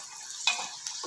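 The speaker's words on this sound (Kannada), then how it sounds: "ಚೆನ್ನಾಗಿ ಗೋಲ್ಡನ್ ಕಲರ್ ಬರೋವರೆಗೂ ಫ್ರೈ ಮಾಡ್ಕೊಳ್ಳೋಣ." Chana dal, urad dal and cashews frying in hot oil, giving a faint, steady sizzle with a couple of brief scraping stirs, alone with no voices.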